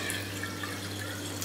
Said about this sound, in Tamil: இதில் ஃபஸ்ட்டு வந்து தண்ணி ஊற்றிக்கிறேன்